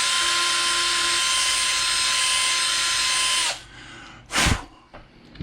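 A small power drill with a trace-sized bit, run at its lowest setting, grinds through a copper trace on a pedal circuit board. It gives a steady, close whine for about three and a half seconds, then cuts off, and a short clunk follows.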